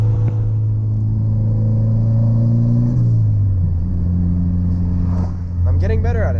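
Porsche 944 engine droning loudly from inside the cabin while driving, its pitch falling in steps as gears are shifted, then climbing again under acceleration, with a voice talking over it near the end.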